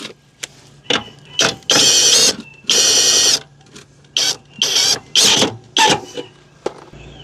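A scissor jack is cranked by hand, giving loud close mechanical ratcheting and grinding bursts in an uneven start-stop rhythm, each stroke separated by short pauses.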